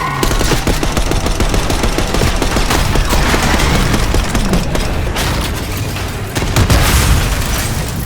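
Dense, loud gunfire and booming explosions in the video game Call of Duty: Black Ops 6 during a street fight with a limousine, with continuous rapid bursts and heavy blasts filling the whole stretch.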